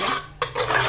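A spoon scrapes and stirs masala for chicken 65 in a pan, a short, soft clatter and swish of metal against the cookware with a brief sharper knock midway.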